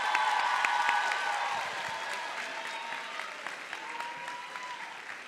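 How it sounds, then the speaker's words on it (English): An audience at the Harris-Stowe State University 2022 convocation applauds, a broad, fairly distant patter of many hands that slowly fades while a faint tone hangs in the background. "One big round of applause for our Miss Harris-Stowe State University, please"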